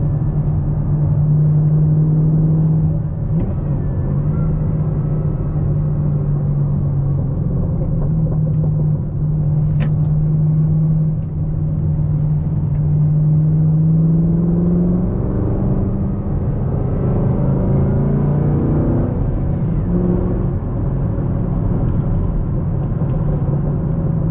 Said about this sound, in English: I'll just shut up for a little bit so you guys can kind of hear the car